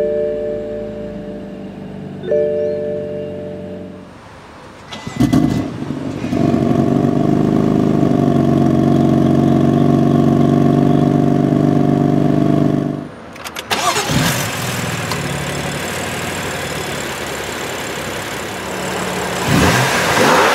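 A 2015 BMW M3 sedan is started by a push button: the starter cranks, then the engine fires with a loud bark and settles into a steady rumbling idle, followed by a sharp blip and renewed revving up close.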